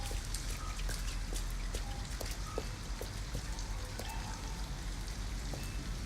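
Steady rain falls in Detroit: Become Human, a continuous patter of raindrops hitting surfaces with scattered sharper drips, even and unbroken throughout with no voices.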